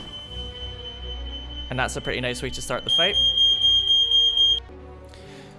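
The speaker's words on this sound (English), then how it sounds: "my flatmate accidentally set off the fire alarm." A flat-mounted smoke alarm shrills in a steady high continuous tone through most of the clip, then cuts off abruptly, sounding from nearby while someone talks over it and game music plays softly beneath.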